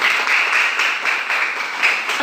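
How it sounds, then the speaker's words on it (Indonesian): Schoolchildren in a classroom applaud a student group, a brief burst of dense, continuous clapping heard close and fairly loud. "tepuk tangan untuk kelompok 1"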